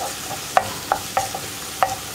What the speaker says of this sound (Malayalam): തക്കാളിയിൽ നിന്ന് തൊലി വിട്ട് വരുന്ന ആ ഒരു പാകത്തിലായി വരുന്നത് വരെ നമ്മൾ ഇളക്കി കൊടുത്തുകൊണ്ടിരിക്കുക